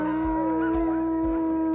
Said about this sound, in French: Quand les chiens se réveillent le matin, ça part à hurler.